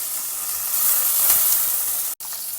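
Mustard seeds, urad dal, chopped green chilli and curry leaves sizzling in hot oil in a pan, a steady close bright crackling hiss that runs alone and cuts off abruptly near the end.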